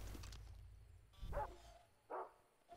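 Dogs barking in the video game Far Cry 3, two or three short, fairly faint barks spaced apart over low game ambience.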